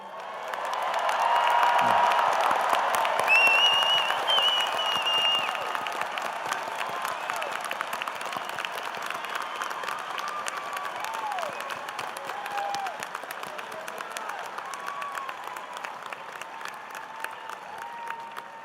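Sustained audience applause at a spring university commencement ceremony, honoring new graduates after the tassel turn; dense, steady clapping from a large crowd that swells early then holds, with a few scattered whistles and cheers.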